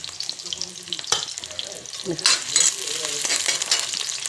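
Onions, half-fried in a pan while cooking pumpkin with goat meat curry, crackle and sizzle steadily up close, with a few stirring scrapes and clatters breaking through.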